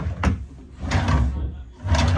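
Cabin drawer aboard the Carnival Miracle cruise ship slides open and shut in three scraping runs, each a brief rolling rumble with a soft knock at the end, close and clear.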